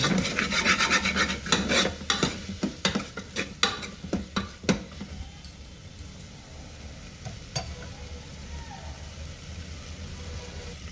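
Chana masala stirred with spice powder in a pan, with a busy run of rhythmic scraping and rasping spoon strokes that thins out into a quieter sizzle.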